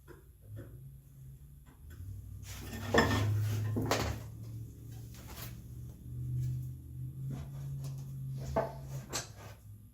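Narrow chisel working walnut wood for a ladder plant stand, a run of sharp scraping taps and chips close by, with a steady low hum running underneath.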